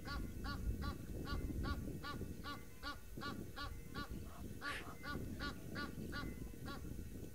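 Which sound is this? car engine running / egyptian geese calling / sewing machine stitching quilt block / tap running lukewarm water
egyptian geese calling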